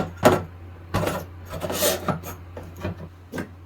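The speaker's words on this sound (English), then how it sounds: "slide it into the leg bracket and then tighten the thumb bolt" A solar panel leg slides into its bracket and a thumb bolt is tightened: a sharp initial scrape followed by several close, rasping rubs and small knocks of metal and plastic.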